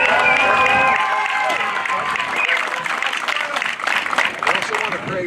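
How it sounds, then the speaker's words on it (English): A crowd at a fire station welcoming a new fire engine breaks into applause and cheering, with voices and a few whoops over the dense clapping. "Can we get a really big round of applause for you?"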